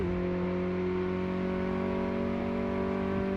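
A Ford Focus RS engine and intake in the Car Mechanic Simulator 2018 game hold a steady, loud droning hum with layered tones, the revs nearly constant and no voices.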